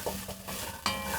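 Garlic goes into a hot pan and sizzles, with a few soft stirring scrapes and a brief louder hiss near the end, faint and close with no talk.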